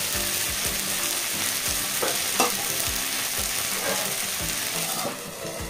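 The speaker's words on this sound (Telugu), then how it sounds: "జాగ్రత్తగా తిప్పుకోండి, మనం డీప్ ఫ్రై చేయబోతున్నాం." Fish deep-frying in hot oil gives a dense, continuous bubbling sizzle with occasional soft knocks, steady and close. It drops slightly toward the end.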